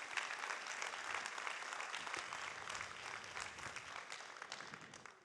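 A church congregation breaks into loud, sustained applause during a sermon, dense clapping from many people filling the room evenly without pause.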